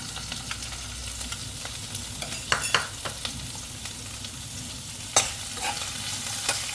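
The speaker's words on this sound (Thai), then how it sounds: "ลวนกุ้งให้สุดสักระยะหนึ่งนะคะ" Shrimp stir-fried in a pan for fried rice with kale, a steady sizzle broken by sharp scraping and clacking strokes of the spatula, heard up close with no talking.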